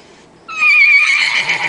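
A woman imitates a horse neigh with her voice, a single loud, close whinny that rises sharply and wavers for about a second before trailing off.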